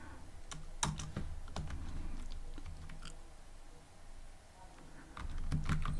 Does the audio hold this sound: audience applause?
no